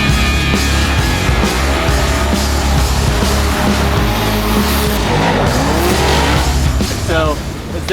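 Drift cars at a Formula Drift Pro Championship round at World Wide Technology Raceway in St. Louis roar with loud, continuous engines and long tire squeals that rise and fall, dense and unbroken throughout.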